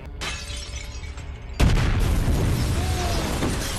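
A bomb blast from the film John Wick Chapter 2 erupts suddenly after a stretch of lower rumbling, a loud booming burst with a shattering crash that then rolls on as sustained heavy debris noise.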